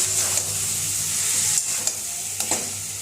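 Fried potatoes and cauliflower sautéed with spices in a pan give a steady close sizzle, with several light scraping strokes of stirring spaced through it.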